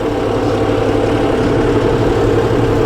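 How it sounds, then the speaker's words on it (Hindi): A tractor engine runs in a wet, stubble-covered paddy field after harvest, a loud steady low rumble with a regular throbbing beat, close by and uninterrupted, no voices. "अब मैं ट्रैक्टर को कर लेता हूं बंद।"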